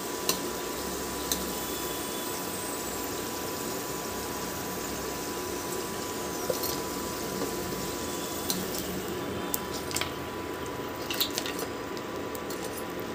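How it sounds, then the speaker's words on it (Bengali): Potato pakoras frying in hot oil, a faint, steady crackling sizzle with occasional sharper pops and clicks, heard alone without talk. "আলুর পকোড়াগুলো আমার হয়ে গেছে, এবার তেল থেকে আস্তে আস্তে এগুলোকে তুলে নেব।"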